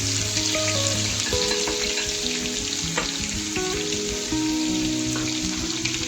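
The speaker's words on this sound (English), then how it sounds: "add cumin seeds and mustard seeds and let them splatter" Cumin and mustard seeds splutter and crackle in hot oil in a pan, a dense rain-like sizzle that continues without pause and without any voices.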